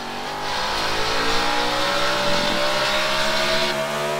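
A race car engine in a racing video game revs hard and climbs in pitch, a loud, continuous buzzing whine with a rising sweep midway, and no voices.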